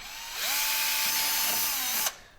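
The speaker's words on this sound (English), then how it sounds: "to drill into your plastic for the front rivets, you're going to need a 3/16 drill bit" A power drill fitted with a 3/16 drill bit bores into the plastic of a skid plate for a 2023 Ski-Doo Expedition SE 900 ACE snowmobile, one close, steady whine for about two seconds, then it stops.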